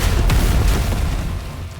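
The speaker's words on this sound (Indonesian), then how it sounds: "Dan dia menggunakan jimat lain untuk meledakkan Wang." An animated explosion set off by a talisman, a loud close boom with a heavy low rumble that decays over under two seconds and ends abruptly.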